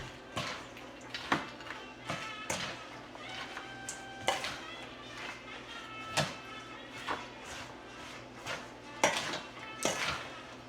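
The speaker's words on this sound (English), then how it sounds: "onions, the cheese, and the broccoli. Mix them together." Onions, cheese and broccoli mixed for a broccoli and French onion casserole, with quiet clinks and scrapes of a utensil against a dish at an irregular pace, faint, with a voice speaking softly in the background.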